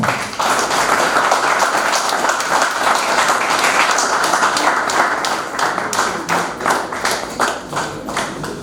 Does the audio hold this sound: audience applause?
yes